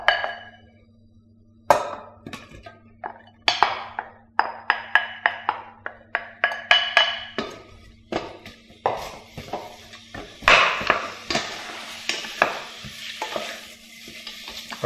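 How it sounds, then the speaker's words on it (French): About two tablespoons of hot rapeseed oil and onions are sweated in a pan, making a soft sizzle under a series of close, rhythmic scraping strokes as the onions are stirred. "on fait suer les oignons"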